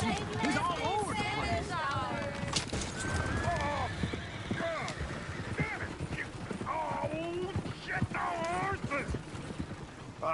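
Horses in the Red Dead Redemption 2 game trot with steady clip-clopping hooves and let out several whinnies, while voices of characters talk over the busy scene.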